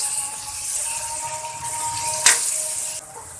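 Chopped tomatoes fry in a pan with garlic and ginger, a steady close sizzle with one brief clatter of stirring partway through.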